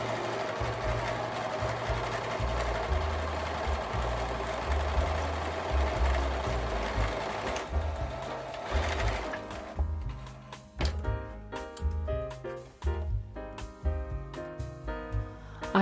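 A sewing machine stitches dress fabric for a 1920s-style afternoon dress, running in a steady whirring drone at first, then breaking into shorter stop-start bursts of stitching, close and alone.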